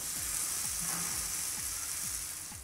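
A vegan Tex-Mex steak cooking in a pan with no added fat gives a steady, close sizzle and crackle, with a few soft low pops, and no one talking.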